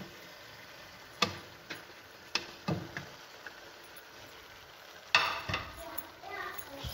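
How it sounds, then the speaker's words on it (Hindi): Bell peppers being stirred into chicken frying in a pan: scattered scraping and clinking of a utensil against the pan over a faint sizzle, close by. "शिमला मिर्च ऐड करके इसे मैं अच्छे से मिक्स कर लूँगी"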